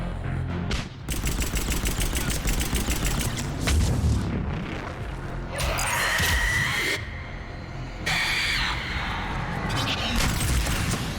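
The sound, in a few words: grenade explosion and gunfire in Mass Effect 3 video game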